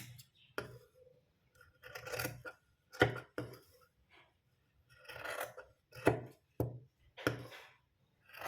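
Scissors cut through piping cloth in a series of sharp, close snips and rasps separated by brief quiet gaps, with faint background hum.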